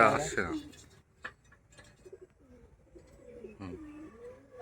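Pet pigeons, a pair recently brought from Kolkata, give soft, low rolling coos close by after a brief loud burst of sound at the start, with faint ticking noises in between.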